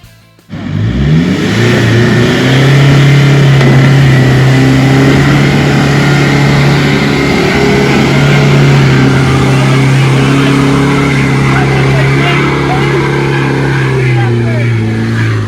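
A four-wheel-drive off-road vehicle's engine revs hard and steadily on a forest track as it struggles for traction on the back wheel, loud and close throughout, with voices faintly underneath.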